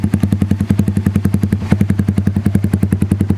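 A motorcycle engine revved steadily in the 4000 to 6000 RPM range, a loud, close, fast pulsing exhaust drone with regular beats throughout and a brief surge midway, with no talking.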